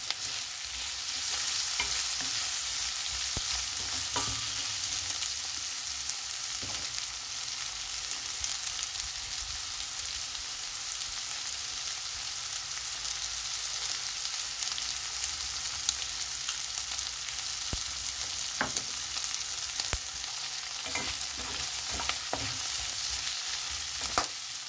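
Beef frying in a pan while being stirred, a continuous dense sizzle with occasional spoon scrapes and taps, steady and close throughout.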